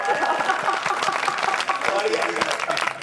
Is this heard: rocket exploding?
no